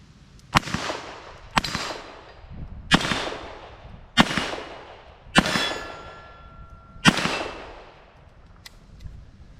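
Six sharp, loud shots from an old Smith & Wesson pre-Model 10 revolver firing soft lead round-nose bullets at a range, spaced about a second apart, each with a short ringing decay and no talking.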